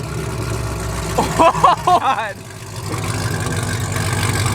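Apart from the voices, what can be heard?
Camaro SS engine with cheap headers idling and revving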